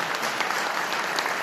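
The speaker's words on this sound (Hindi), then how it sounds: "ताली बजाकर परमेश्वर की महिमा कर।" A church congregation claps loudly in praise of God, a thick, sustained roll of many hands clapping together with no pause.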